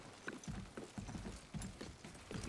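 Horse hooves clip-clop in a video game as the horse balks at crossing a bridge. Fairly faint, steady rhythmic hoofbeats repeat through the clip, with no voices.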